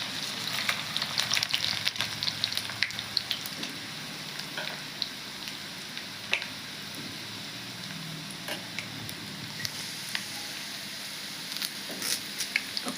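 Tempering spices fry in hot oil for a tomato yogurt chutney, a steady low sizzle with scattered pops and crackles, fairly quiet and close, with no voices.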